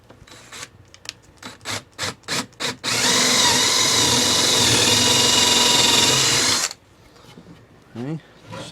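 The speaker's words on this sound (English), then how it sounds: "just find your center and drill down just far enough so it just" Short bursts of a power drill lead into a long, loud continuous drilling into a wooden 2x4, then it stops and a voice speaks.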